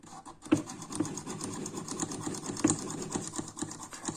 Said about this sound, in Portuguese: Esse barulho que vocês estão ouvindo, papapapapapá, aí é um martelo aí do lado